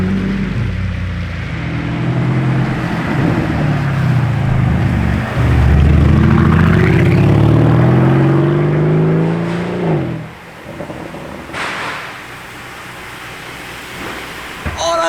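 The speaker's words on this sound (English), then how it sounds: "Orange Lambo incoming!" An orange Lamborghini Revuelto supercar roars past, its engine note rising and falling in a loud drive-by before fading away, followed by quieter traffic sounds.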